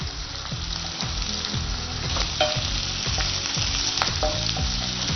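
Green chillies and chopped capsicum sizzle and fry steadily in an oil-filled pan, loud and close, with the occasional scrape of stirring and no voices.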